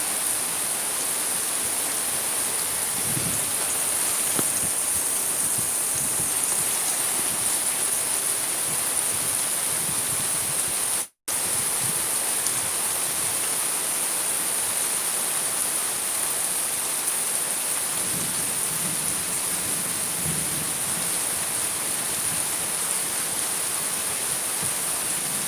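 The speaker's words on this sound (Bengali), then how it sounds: "এত ভয়ঙ্কর আওয়াজ দিছে আকাশের," Heavy rain pours in a continuous loud wash throughout, with no distinct thunder cracks standing out and no voices.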